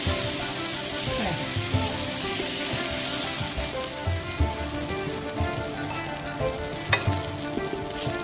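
Sanna polo, a Konkani dal pancake, fries in a pan on a gas stove with a steady, close sizzle that lasts throughout, broken by occasional small crackles and pops.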